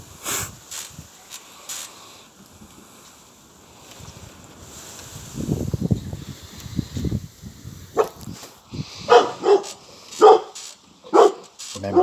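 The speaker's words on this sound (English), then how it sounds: "Remember, this is about dogs barking" Several dogs bark in short bursts, mostly toward the end, with a muffled rumbling noise in the middle and quiet gaps between.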